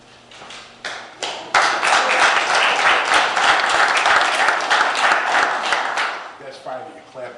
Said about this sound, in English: That's fine that you clap